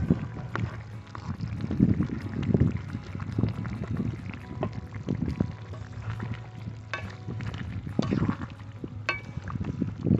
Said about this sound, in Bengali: এবারে আমরা দিয়ে দিচ্ছি যে কেটে রাখা টমেটো আর কাঁচা লঙ্কা।